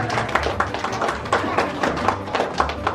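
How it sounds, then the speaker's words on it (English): A church congregation in Mississauga claps for its 39th anniversary, producing a fairly close patter of hands with regular, accented beats over about three seconds and little talking. "Let me give you guys a clap of applause for that."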